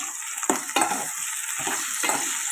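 A spoon stirs broad bean and tomato curry seasoned with salt in a sizzling pan, with several distinct scraping strokes over a steady frying hiss.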